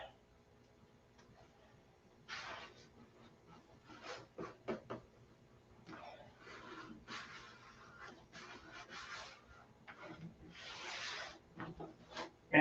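A P-47 model airplane's top skin being sanded by hand, with rasping, rubbing strokes that come in irregular bursts, close and moderately loud, separated by short quiet pauses.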